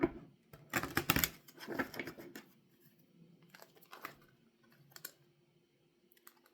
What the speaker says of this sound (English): we're just going to shuffle and get to the reading.